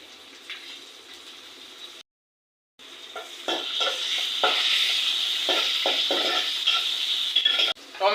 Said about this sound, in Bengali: পেঁয়াজটা ভাজা হয়ে গেছে, এখন টমেটোটা দিয়ে দিব।